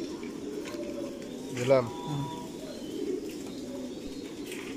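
A racer pigeon gives a short burst of cooing at a pigeon farm, close by and over a steady background hum, while someone speaks briefly nearby.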